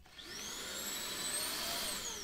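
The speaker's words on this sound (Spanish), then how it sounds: "Y lo más importante, la aspiradora, como ven." A Deenkee 2-in-1 cordless rechargeable vacuum cleaner runs close by with a steady high whine and airflow rush that rises slightly in pitch after starting, with no talking.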